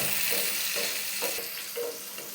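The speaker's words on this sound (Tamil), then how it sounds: "இப்போது வெங்காயம் ஒரு ஒன்றரை வர வரைக்கும் நம்ம கொஞ்சம் ஃப்ரை பண்ணிக்கலாம்" Onions frying in a pan for kadambam sambar, a steady soft sizzle close by with faint scraping stirs, no voices.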